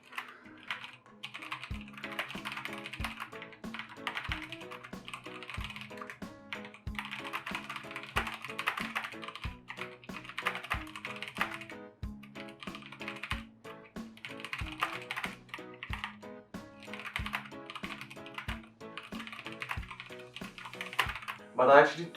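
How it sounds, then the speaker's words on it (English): Typing on a computer keyboard in Microsoft Word without looking at the keys, a steady stream of close key clicks under soft background music with a regular low beat. "here's me typing while not looking at the keyboard in Word"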